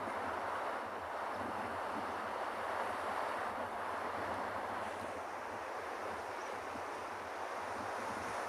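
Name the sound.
ocean waves crashing on penguin beach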